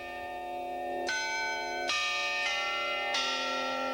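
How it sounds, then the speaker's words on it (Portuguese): A carillon in a newspaper building in central Recife rings on the hour. Four clear, resonant bell strikes, each layered over the lingering hum of the one before, sound with no voices. "O jornal mantém a velha tradição de tocar o carrilhão a cada hora cheia."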